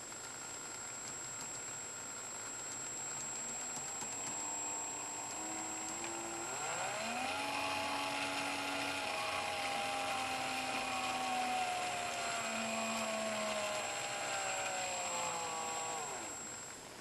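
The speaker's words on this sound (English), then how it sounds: "the same signal that was driving the LED, I have now driving a little gear motor" A small gear motor driven by a PWM signal whines steadily and close by, its pitched hum shifting up and down as the speed changes, over a faint background hiss.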